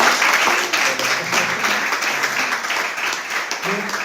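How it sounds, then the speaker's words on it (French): A church congregation applauds the pastor's parents during a sermon, dense continuous clapping from a large crowd with faint voices mixed underneath. "On applaudit tous les parents."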